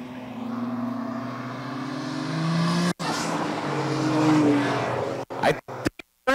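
Cars including a fast Mitsubishi GT3000 run one-on-one drag races, with a loud sustained engine drone and shifting pitch, then choppy bursts as the sound cuts in and out near the end.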